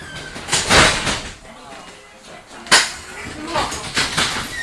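The door of TTC streetcar #2894, a 1923 car at the Halton County Radial Railroad Museum, closes with a sharp bump amid rattling and people talking nearby.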